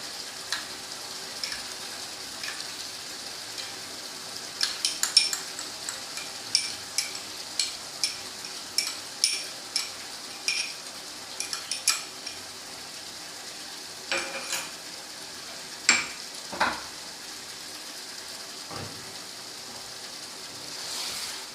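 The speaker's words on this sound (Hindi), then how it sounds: "फिर हम इसको थोड़ा सा भूनेंगे।" Chicken frying with yogurt in a pan for Patiala murgh, a steady low sizzle broken by a run of scraping, clinking stirring strokes in the middle, close and moderately quiet with no talking.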